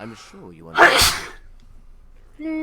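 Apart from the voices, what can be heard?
sneeze, in the Fallout 3 video game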